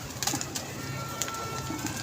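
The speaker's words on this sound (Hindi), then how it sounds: "एक वो कबूतरी उतरी है नीचे, मैं दिखाता हूँ" Soft cooing of a female pigeon, low and muffled, repeated a couple of times against a steady background hum with faint chirps above.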